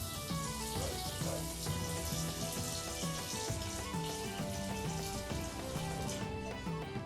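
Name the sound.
cold water filling a pot of potatoes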